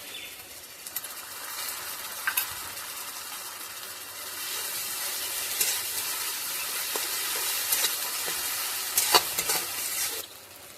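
A paste of ground cumin and coriander fries in a pan for a prawn-stuffed pointed gourd dish with coconut milk. It gives a continuous soft sizzle with intermittent scraping stirs, growing busier toward the end before stopping abruptly.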